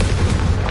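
Confringo explosive spell going off in Hogwarts Legacy, a dense booming blast with heavy low rumble filling the whole short moment, loud and close.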